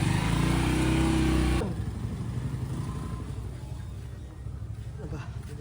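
A motorcycle engine runs close by, steady and loud for a moment before dropping to a lower, pulsing idle-like chug, with voices heard alongside.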